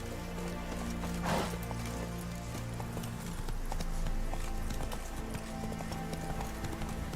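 In The Witcher 3 video game, the horse Roach gallops with a rapid, rhythmic clip-clop of hooves, close and steady, joined by a brief snort or whinny early on and light background game ambience.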